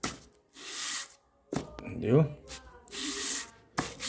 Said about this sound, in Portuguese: Aí eu tô lixando.